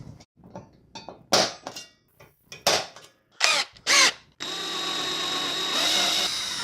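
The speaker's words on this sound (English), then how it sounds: "Start drilling some holes." A power drill whirs in several short bursts, then runs steadily for a couple of seconds, biting into metal at close range while drilling holes for a light bar.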